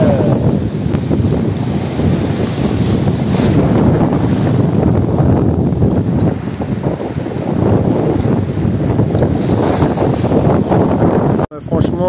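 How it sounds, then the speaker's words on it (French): Strong wind buffets the microphone outdoors at a castle, a loud continuous low rumble with gusts that swell and ease, and a sharp dropout near the end. "Il y a un petit vent, donc je sais pas si vous m'entendrez bien."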